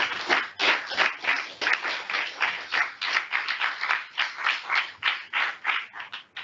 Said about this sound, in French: applaudissez François et David